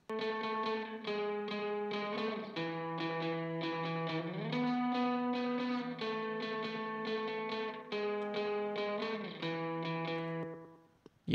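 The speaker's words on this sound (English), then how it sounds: "Let's go with analog reverb." Indie rock mix of distorted guitar chords with an analog, springy reverb, playing continuously and loudly with sliding chord changes, then decaying into a reverb tail at the end.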